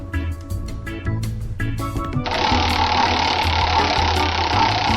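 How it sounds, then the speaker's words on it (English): A randomizer wheel spinning sound effect: rapid clicking ticks for about two seconds, then a loud steady whooshing rush that fills the rest, with no talking. "that is the sound of the wheel as we spin the randomizer automator"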